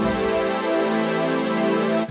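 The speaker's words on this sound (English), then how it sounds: "So you can hear that detune happening." A sustained synthesizer tone with rich harmonics, detuned by a random modulator in Bitwig Studio 3, wavers slightly in pitch, giving a gentle detuned shimmer, then stops abruptly.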